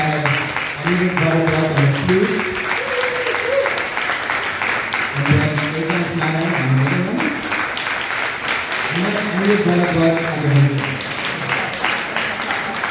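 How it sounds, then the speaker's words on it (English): Audience applauding instrumentalists at a Pancharathna kriti recital in 2024, a dense wash of clapping that runs throughout while people keep talking over it with their voices rising and falling. "Can we give our instrumentalists a wonderful round of applause?"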